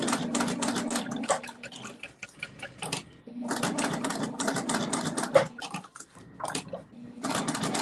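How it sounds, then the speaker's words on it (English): Sewing machine stitching vinyl for a wallet, heard as rapid mechanical runs of stitching broken by short pauses, close and steady, with no talk. "So I've measured it out and then I'm sewing it"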